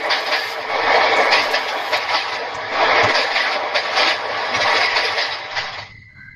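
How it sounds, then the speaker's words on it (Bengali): A cartoon sound effect of a train pulling into a station: a loud, steady rushing rumble that holds for about six seconds before cutting off abruptly. "ভেদ করে জোরে হর্ন বাজিয়ে স্টেশনে ট্রেনটি ঢুকে পড়ল।"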